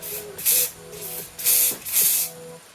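Hairspray misted from an aerosol can onto curled hair extensions, three or four close, loud hissing bursts separated by short pauses.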